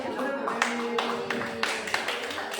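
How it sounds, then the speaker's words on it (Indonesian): Brief applause from a small audience at a teacher training dissemination session, scattered claps over a murmur of voices and tonal background noise. "tepuk tangan."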